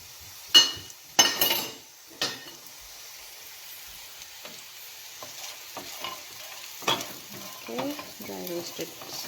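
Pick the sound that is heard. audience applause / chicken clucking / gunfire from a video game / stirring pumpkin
stirring pumpkin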